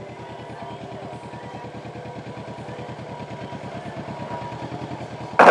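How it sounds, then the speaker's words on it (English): Motorcycle engine running steadily as it rides through a mall's parking lanes, a close, rhythmic low pulsing throughout with a brief loud burst at the very end. "but I'm on my motorcycle."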